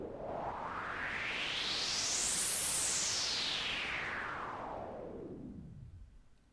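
Synthesized white noise from FL Studio 12 with automated filtering, opening quickly into a bright, loud hiss that peaks and then slowly closes back down to a dull rumble, heard alone with no voices.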